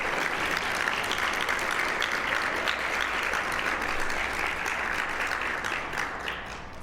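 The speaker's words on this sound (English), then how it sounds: "I think we deserve one more round of applause for that fantastic run." Speedrun marathon event audience giving a loud, dense round of applause that holds steady for several seconds and then begins to taper off near the end.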